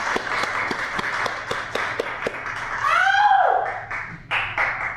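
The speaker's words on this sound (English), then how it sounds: "let's give him another great round of applause there" An audience at a library poetry reading applauds in steady, sharp claps that carry on through the clip, with a whistle or cheer rising midway.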